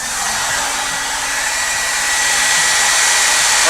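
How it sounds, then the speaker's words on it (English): A hair dryer drying an art journal page blows steadily and loudly for the whole stretch, a constant airy roar with no pauses. "let's hit it with that hair dryer and get it to finish drying out"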